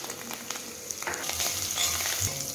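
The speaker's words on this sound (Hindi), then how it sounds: "अब हम इसमें तड़का डाल देते हैं।" Mustard seeds and other tempering spices crackle and sizzle in hot oil, a steady spitting hiss with small pops, close by and fairly quiet.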